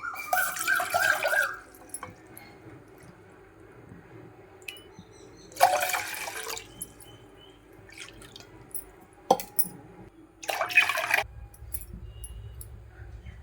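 Water poured from a cup into a kadai while making jaggery appalu, coming in a few separate splashing pours of a second or so each, with quiet gaps between them.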